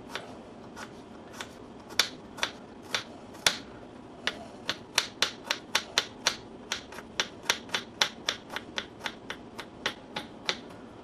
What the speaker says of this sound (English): I'm going to dice up the garlic.